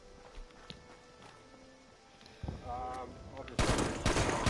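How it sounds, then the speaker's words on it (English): Gunfire strikes a player character in Fallout 76, a burst of rapid loud impacts and shots arriving late over quieter game ambience and scattered effects, with a voice talking over part of it. "And I'm being shot."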